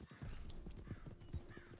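Horse hooves clip-clop in Red Dead Redemption 2 as a gray 2021 mustang walks along, a quiet, steady rhythm of light hoofbeats with no talking over it.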